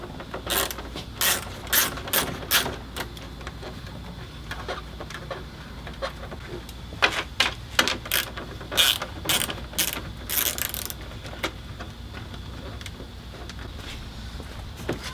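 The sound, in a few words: ratchet with 10mm socket removing headlight bolts, Hyundai Genesis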